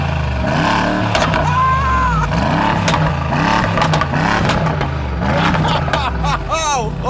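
An 800-horsepower V-engine hypercar revving hard through its exhaust, repeated rising and falling roars in quick succession, loud and close, with brief voices mixed in.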